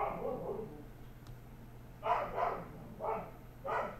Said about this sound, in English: I assume you guys can hear the dog barking.